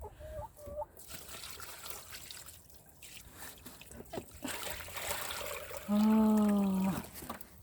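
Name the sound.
water poured for chickens in the snow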